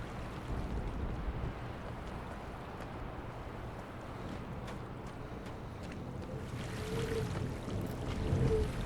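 Steady, broadband wind rushing and whooshing throughout a video game, Myst remake, a continuous airy roar with slight swells toward the end.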